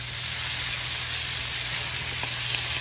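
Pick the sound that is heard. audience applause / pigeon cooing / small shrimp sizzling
small shrimp sizzling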